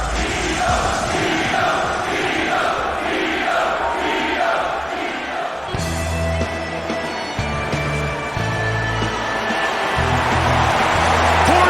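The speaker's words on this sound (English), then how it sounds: "Griffin making his way to the Octagon, and he has this crowd fired up." Arena crowd cheering in the video game UFC Undisputed 3 as Forrest Griffin walks to the Octagon. A loud, continuous roar holds throughout over a rhythmic backing that shifts partway through.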